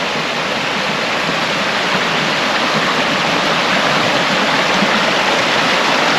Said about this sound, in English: I think behind them trees is the waterfall